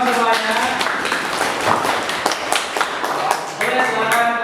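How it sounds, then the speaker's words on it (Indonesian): Students in a classroom clap after a presentation, giving quick, uneven bursts of hand claps mixed with shuffling and taps, fairly close, with speech-like murmur underneath. "terima kasih tepuk tangan tolong semuanya"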